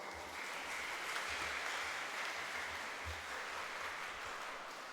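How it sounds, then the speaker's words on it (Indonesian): Steady applause from a congregation at a Catholic thanksgiving Mass in Kupang, a dense wash of clapping that holds evenly throughout without a break. "Tepuk tangan untuk Romo Dus."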